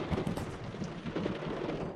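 Steady rain drums on a campsite tent during a wet Canada Cup event, a dense, continuous patter with heavier gusty swells and no voices.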